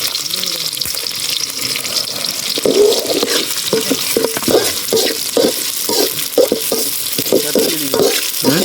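Green chillies sizzle in a hot pan outdoors while being stirred, a steady fry hiss broken by repeated scraping strokes of the spoon against the pan, close and fairly loud, no speech.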